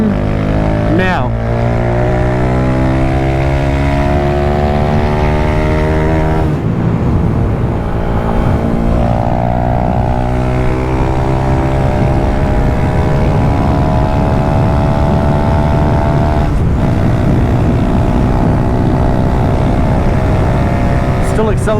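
A 16HP drag bike engine accelerates through the gears, its loud droning roar rising steadily in pitch with brief dips at the shifts, heard close throughout.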